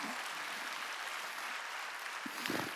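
A Korean church congregation at a Wednesday service claps in a steady, moderately distant wash of applause, with brief voice sounds near the end.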